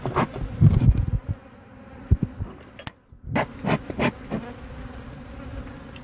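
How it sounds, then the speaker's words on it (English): Honeybees drone in a close, steady buzz while being removed from under a mobile home in Lakeland, Florida, with occasional clunks and scrapes of handling and a brief near-silent gap midway. "not many bees left in here"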